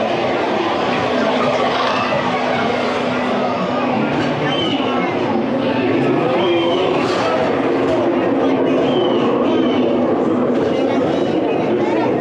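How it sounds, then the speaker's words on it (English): A tourist train ride around the back of Frontierland at Disneyland Paris, with a steady loud rumble and rattle of rail cars running throughout and people talking over it. "We're on the train. I like the train."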